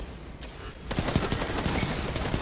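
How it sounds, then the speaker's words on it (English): Rapid gunfire in the game Destiny 2 opens up suddenly after a quiet start, a loud dense burst of overlapping shots and impacts that continues steadily to the end. "Let's give some cover fire to our buddy."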